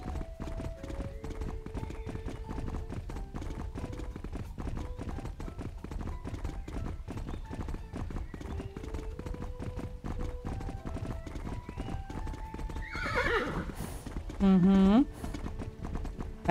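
Horse hooves clip-clop steadily through the Horse Club Adventures video game over background music, and near the end a loud horse neigh rises briefly.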